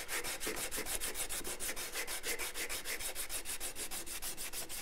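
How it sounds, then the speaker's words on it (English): Sandpaper wrapped around a wooden block rubbed back and forth on wood while shaping a frame saw part, a steady fast rhythm of rasping strokes, close and even, with no talk. "I would just go with the sandpaper in the block of wood"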